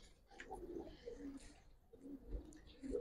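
Giribaz pigeons give soft, low repeated coos at close range, faint and calm, with a few rustles between calls and no talking.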